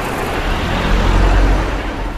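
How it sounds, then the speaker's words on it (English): Steady, dense road traffic on a busy street in the small Chinese city of Dandong, a continuous low rumble of cars and heavier vehicles with no single pass standing out. "Dandong is a bustling, small Chinese city, tall buildings, noise and traffic."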